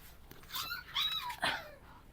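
A lively Labrador puppy at a pet shop gives a few short whimpering yips close by, in brief bursts with pauses between.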